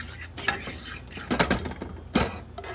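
Ground cumin and other spices being stirred for butter chicken, with a utensil clinking and scraping against a bowl or jug in a few short bursts.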